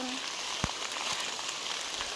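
Rain falls steadily in a faint, hissing patter, with a few sharper drips and taps standing out against the soft background.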